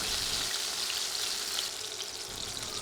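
Fish pieces frying in hot oil in a pan, a continuous soft crackling sizzle heard close and fairly quiet, without pause or other sounds.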